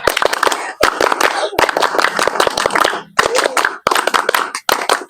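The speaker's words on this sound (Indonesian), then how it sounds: "2 kali tepuk pramuka." Scout group at an MTs Al-Amin Pramuka farewell performs the rhythmic tepuk pramuka clap twice, loud sharp unison claps in patterned bursts separated by brief pauses.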